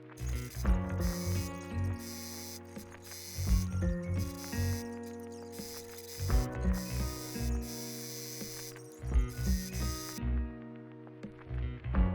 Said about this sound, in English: I zigzag stitched the whole top part to make sure it wouldn't fray